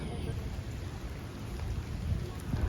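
Rain falls outdoors on a Taipei street while people walk through it, a steady, hissing patter of drops at moderate loudness with faint sounds of movement mixed in.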